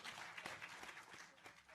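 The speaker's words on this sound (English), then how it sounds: "That deserves an applause." An audience applauds at a university lecture, giving a short burst of scattered clapping that sounds faint and distant throughout.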